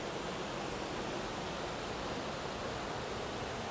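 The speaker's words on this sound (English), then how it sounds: "This was Moose Falls coming off of Crawfish Creek." Moose Falls on Crawfish Creek in Yellowstone pours steadily in a loud, even broadband rush of falling water heard up close, with no other sounds.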